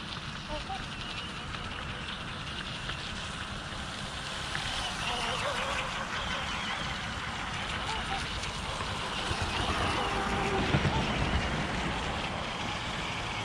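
A water-cooled RC tunnel jet boat on a 3S LiPo battery runs hard at full throttle, a steady high electric motor whine with a rushing water wash that rises and falls slightly as it moves.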